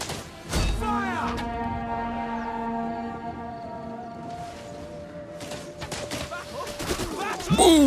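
Arrow volleys and combat from a Total War: Rome 2 battle with troops under fire: scattered sharp impacts and thumps at the start and end, with sustained tonal game sound in between and a voice speaking over it.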